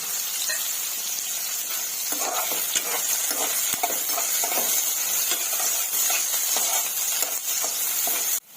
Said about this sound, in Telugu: ఇవి బాగా ఫ్రై చేసుకుందామండి, కొంచెం కలర్ మారేంత వరకు.